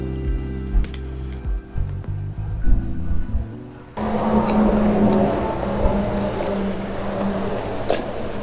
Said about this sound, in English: A little bit more congestion through here, a lot more traffic, and you just got to be a bit more aware of the cars around you.